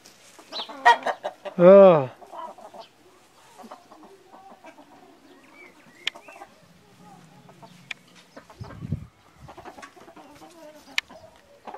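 A 3-4 line hybrid rooster gives a loud burst of clucking near the start, then quieter scattered clucks and farmyard sounds follow, with faint talk in the background.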